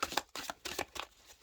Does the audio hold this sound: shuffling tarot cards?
yes